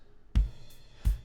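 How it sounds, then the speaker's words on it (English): Open hi-hat layered onto the snare in a BeatBuddy drum machine pattern: two sharp, punchy hits about 0.7 seconds apart, each with a bright cymbal wash, playing alone. "They add an open hi-hat shot on your snare."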